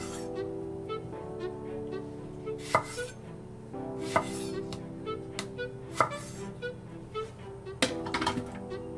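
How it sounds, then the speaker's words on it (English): A knife chops through a tomato on a cutting board, cutting it into chunks for a jollof rice base puree, with several sharp, close thunks spaced irregularly over a steady low kitchen hum. "I'm going to chop up a tomato into manageable sized pieces for my food processor"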